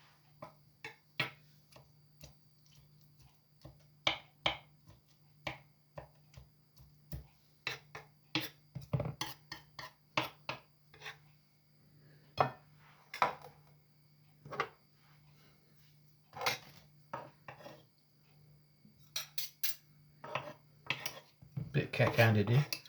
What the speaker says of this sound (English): Chop them. Let's get a bit of a chop.